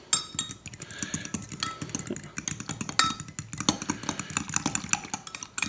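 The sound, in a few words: fork mixing unflavored gelatin in a bowl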